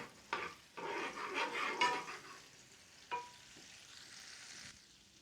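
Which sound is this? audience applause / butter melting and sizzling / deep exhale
butter melting and sizzling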